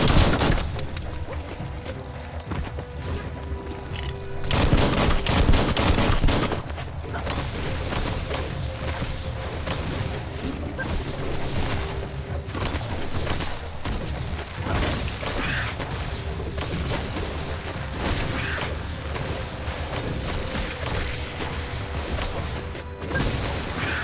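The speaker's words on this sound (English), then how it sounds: "Bullets everywhere." Chaotic combat in the action game Biomutant, dense loud gunfire with crashing impacts and thuds running continuously, layered bursts and booms filling the scene with no speech.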